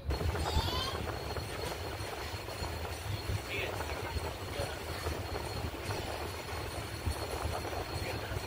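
The 12665 Howrah–Kanyakumari superfast express runs at night, a steady broadband rumble of the moving train with faint rail noise throughout, heard from inside the carriage with a murmur of voices underneath.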